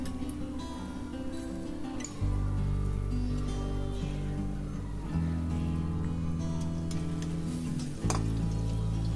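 Ripe banana fritters frying in hot oil, a low steady sizzle with light ticking pops, joined by louder bursts of bubbling as fresh batter drops in, no talk.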